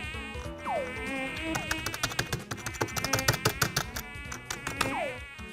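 Mosquitoes in a video game give a dense, continuous high-pitched buzzing that fills the scene, with rapid ticking sounds and a few swooping whines on top.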